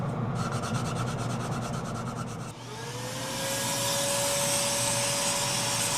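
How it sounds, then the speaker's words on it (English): A vacuum cleaner roars steadily, sucking up mesquite wood dust after turning, a scraping rasp at the start giving way to a rising whine as the suction settles into a constant drone. "I much prefer vacuuming to blowing dust off with compressed air"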